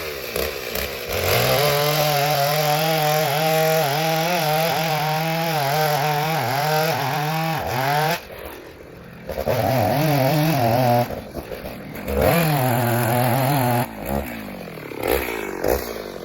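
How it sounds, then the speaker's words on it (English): An IMOUM mini chainsaw cuts into a tree, its engine revving in a loud, sustained whine that rises and falls with load, dropping off briefly twice before resuming. "that chainsaw cuts a lot better"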